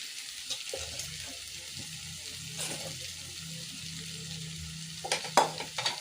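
Raw prawns go into a hot pan for a drumstick and prawn curry and get mixed, giving a soft steady sizzle with a few louder stirring scrapes near the end, no talking.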